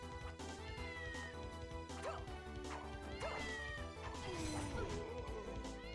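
A cat meowing repeatedly over dense background music and game sounds, several short rising cries close by, with a few thumps and bangs mixed in.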